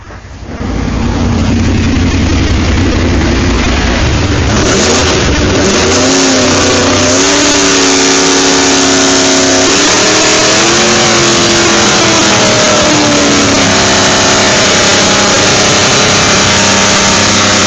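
Car engine running hard on a dynamometer during full power sweeps, a loud sustained roar that climbs steadily in pitch as revs build, then dips and surges again, filling the space without any voices.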